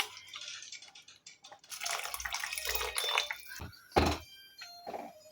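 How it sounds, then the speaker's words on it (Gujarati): Water poured from a cup into a pan of spinach and pea curry: a couple of seconds of splashing, gurgling pour, then a sharp clunk of the vessel and a few faint drips and taps. "તો અત્યારે હું અડધો કપ જેટલું પાણી ઉમેરું છું।"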